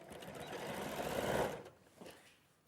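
A domestic sewing machine runs steadily through fabric for about a second and a half, close and fairly soft, then winds down into a brief quiet rustle.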